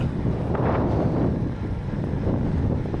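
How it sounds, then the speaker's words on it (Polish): Steady wind on the flat Vistula Delta plains in Poland roars across the microphone, a continuous low rumbling buffet with gusty swells throughout, no voices. "Ale dzisiaj jest ze mną coś, czego nie było w zeszłym tygodniu. Wiatr."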